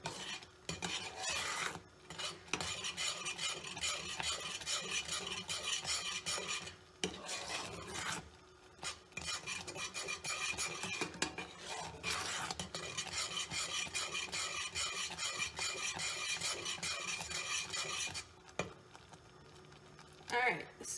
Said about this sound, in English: the bubbles I can kind of hear are popping. It has a certain noise as it thickens